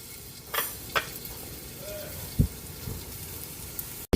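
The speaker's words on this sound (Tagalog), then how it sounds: "Magigisa na tayo para sa ating sotanghon soup." Garlic sautéing in a little oil in a pan for sotanghon soup, a steady soft sizzle with a few utensil clinks and scrapes, close by, with no talk.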